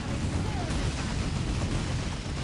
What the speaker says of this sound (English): Phosphor grenades.